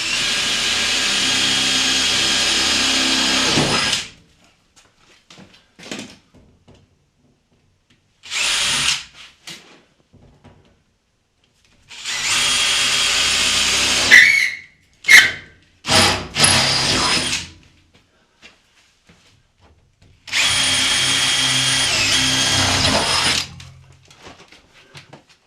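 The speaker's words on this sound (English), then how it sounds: "Drilling through your roof." A drill whirs through a Ford Transit van roof in several separate bursts of a few seconds each, separated by quiet pauses and small clicks and knocks.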